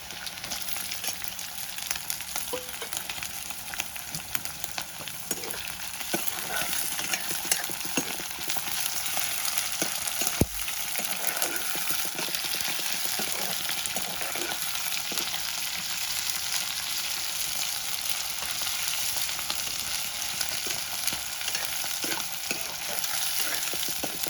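Partridge meat frying in oil, a steady dense sizzle with occasional stirring and scraping sounds, continuous and fairly close throughout with no talking.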